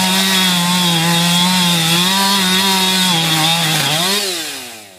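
A power saw plunge-cutting through exterior sheathing and subfloor during a firefighter basement-window rescue: a loud, sustained buzzing whine that shifts slightly in pitch and then winds down near the end, alone without talk.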